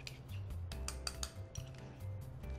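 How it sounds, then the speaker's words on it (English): A utensil stirring a marinade of garlic, fresh thyme and cracked black pepper in a bowl, a quick series of light clinks and scrapes against the bowl, close and quiet. "we're going to stir that together"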